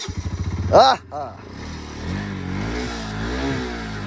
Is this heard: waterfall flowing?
no